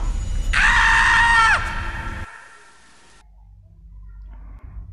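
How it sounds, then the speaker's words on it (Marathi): A single long, shrill scream rings out from outside at night as a horror sound effect, loud and sustained for about a second before cutting off into near silence with a faint low rumble. "अचानकच बाहेरून किंचाळण्याचा आवाज आला."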